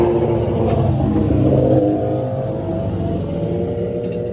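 Loud motorcycle engines roar past close by, revving and then fading as the bikes move away, with no talking.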